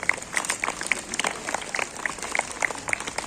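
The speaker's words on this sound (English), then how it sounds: "So please give them a big round of applause." Clapping from students and staff at a school assembly honouring teachers, fairly quiet and somewhat distant, with scattered distinct claps standing out from a thin background of applause over about three seconds.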